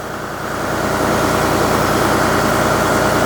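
A John Deere 5310 tractor idles indoors in a building, its loud, close engine swelling up at the start and then settling into a steady, rhythmic low chugging.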